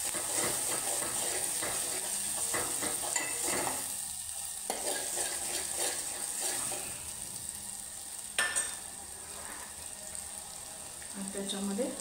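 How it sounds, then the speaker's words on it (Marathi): Red Kolhapuri masala, turmeric, salt and chicken masala being sautéed and stirred in a pan, with a steady sizzle and spoon scrapes running throughout, a louder clatter near the middle, faint talk underneath. "याचं चांगलं परतवून घ्यायचं"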